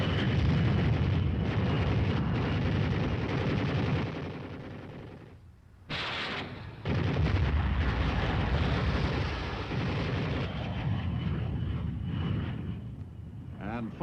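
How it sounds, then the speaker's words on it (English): Aircraft bombs, rockets and napalm strike dug-in enemy positions in a continuous roaring, rumbling barrage of explosions, close and heavy, with a brief dip before the roar resumes under a narrating voice. "the dug-in enemy is burned out with napalm"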